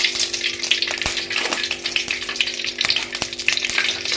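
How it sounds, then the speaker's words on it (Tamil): Mustard seeds sputter and crackle in hot oil for a potato masala, a dense, steady sizzle with sharp pops scattered throughout, close and loud with no voices. "உருளைக்கிழங்கு மசாலுக்கு எண்ணெய் காஞ்சிருச்சு. கடுகு,"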